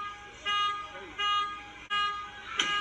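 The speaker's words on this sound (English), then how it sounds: "My hate when people don't hurry to turn that alarm down" A car alarm blaring in repeated, harmonic electronic tones, each lasting under a second with brief gaps between them, loud and steady, heard through a playback with some background noise.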